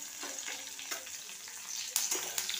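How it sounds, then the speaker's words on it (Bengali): Radhuni seeds fry in hot oil with a torn bay leaf and two green chillies, giving a soft, close sizzle with a few sharper crackles and pops toward the end. "রাঁধুনিটাকে আগে আমি ভালো করে ভেজে দেবো"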